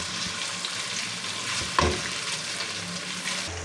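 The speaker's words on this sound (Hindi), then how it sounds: "तो सबसे पहले मैं लहसुन अदरक डालूंगी घी में।" Garlic and ginger sizzle steadily in hot ghee, a continuous bright frying hiss with a brief stir or clatter near the middle.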